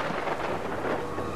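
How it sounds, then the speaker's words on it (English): Thunder rumbles with heavy rain in the video game Everybody's Gone To The Rapture, a dense, loud, steady wash of downpour with a deep rolling roar, no voices. "Thunder and lightning, very, very frightening."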